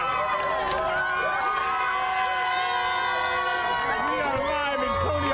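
A crowd cheers and shouts at a contest on Coney Island, Brooklyn, a continuous roar of many voices with whoops and yells, steady and loud throughout.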